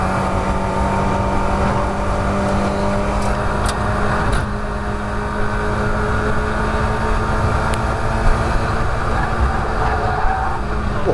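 Mazda MX5 race cars accelerating out of a corner at Croft circuit, a steady, loud engine drone that holds for several seconds and is heard at a distance with no talk.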